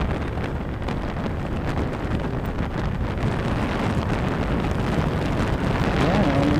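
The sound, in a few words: strong wind on the microphone while riding a goods vehicle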